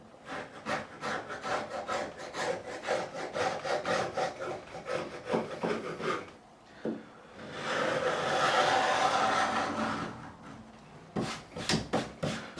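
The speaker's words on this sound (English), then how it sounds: "I'll scrape some of this glue off while we can" A knife scrapes dried glue off a wooden surface, rapid rhythmic rasping strokes up close, then a longer continuous scrape and a few final quick strokes.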